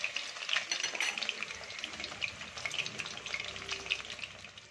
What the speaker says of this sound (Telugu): అన్ని మసాలాలు పట్టించి ఉంచిన చికెన్ని ఒక గంట తర్వాత ఇలా ఫ్రై చేసేసుకోండి